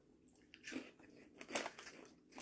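Spicy tomato flavoured snack chips being bitten and chewed close up, a few quiet crisp crunches spread across a short moment.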